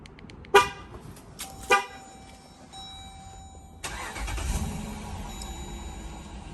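A Dodge Durango engine starting: a couple of sharp short chirps and tones, then the starter catches and the engine settles into a low steady idle, close by with no talk.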